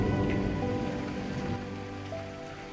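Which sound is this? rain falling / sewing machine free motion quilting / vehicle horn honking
rain falling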